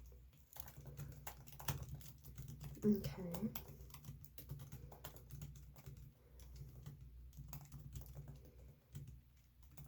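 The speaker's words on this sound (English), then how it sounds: "I'm typing it all down." Soft, close computer keyboard typing in a quiet room, with rapid irregular key taps in bursts. A voice speaks briefly.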